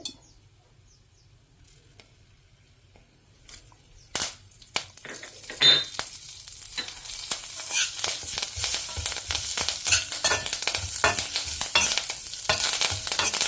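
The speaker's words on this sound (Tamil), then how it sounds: "இந்த மிளகு ஜீரகம் பட்டு பட்டுன்னு பொரிஞ்ச கையோட கருவேப்பிலையை போட்டு ஒரு பரட்டு பரட்டி" Black pepper and cumin fry in ghee, quiet at first, then breaking into sharp, irregular crackles and pops that grow denser and louder over a continuous sizzle.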